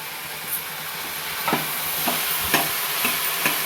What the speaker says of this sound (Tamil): காய்கறி எல்லாம் சேர்த்து நல்லா வதங்கிடுச்சு